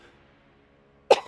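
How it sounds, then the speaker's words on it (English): A single sharp cough bursts out close and loud after a stretch of near silence, a brief forceful explosive sound during a Magic: The Gathering Arena draft game session. "I'm sorry I coughed like right into your guys' ears"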